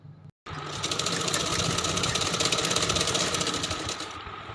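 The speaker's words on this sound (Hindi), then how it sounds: "इस तरह से सिलाई कर लेंगे" A sewing machine runs steadily while stitching the sleeve of a Rajputi suit, with a continuous close mechanical whir lasting about four seconds after a brief pause at the start. No one speaks.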